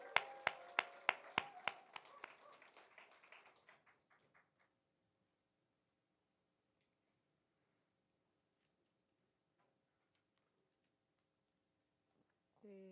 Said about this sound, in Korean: 우리 민경 집사님 박수로 모시겠습니다